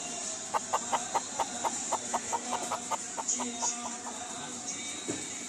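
Chickens cluck in a steady run of short, fairly close calls, sold at a poultry market, with busy background noise and no talk.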